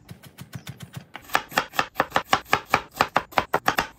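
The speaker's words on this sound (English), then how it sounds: "That'll be good for the peppers and onions, and then we'll cut that up for the actual cheesesteak." Knife chopping sweet peppers, jalapeno and onions on a cutting board for a griddle breakfast, a quick run of close crisp chops, first lighter then louder and faster.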